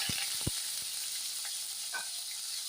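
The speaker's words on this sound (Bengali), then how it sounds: "এই পেঁয়াজ কুচি দিয়ে দিচ্ছি" Chopped onion dropped into hot oil with black cumin seeds, giving a steady close sizzle with a few sharp crackles and pops early on, no voices.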